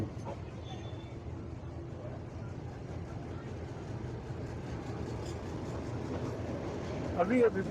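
On board a metre gauge train passing among houses in Junagadh city, a continuous low rolling rumble holds steady throughout, with speech over it and a slight swell at the end.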